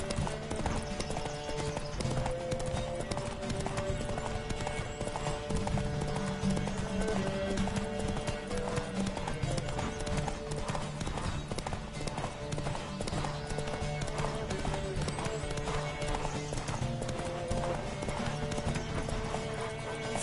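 Rapid, rhythmic hoofbeats of a galloping horse in the video game The Witcher 3: Wild Hunt, continuous and fairly close, over a constant music-like background, with no pauses.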